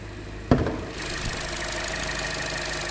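A 2014 Chevy Cruze 1.4 liter turbo engine idles with a steady, even hum after a brief knock, running smoothly at a constant level close by.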